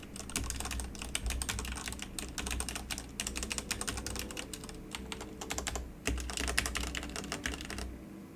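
Rapid mechanical key presses clatter steadily up close on a Ducky One 2 Mini or Apex Pro TKL keyboard, a busy run of clicky keystrokes with slight ping and no talking.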